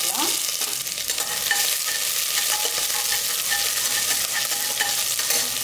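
Shallots and curry leaves frying with spices in a pan for a mutton uppu kandam kuzhambu, a steady close sizzle and crackle with light stirring scrapes throughout, no voices.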